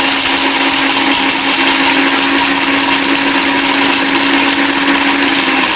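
A blender grinding brick into powder, a loud continuous motor whine and grinding roar that stays steady and close throughout.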